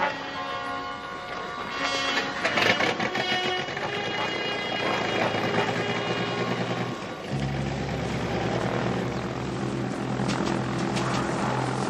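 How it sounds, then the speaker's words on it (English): A plane's engine warming up on the ground in a 1970s British crime drama gives a loud, steady propeller-like drone that shifts to a lower, rougher tone partway through, with no voices. "the plane's warming up"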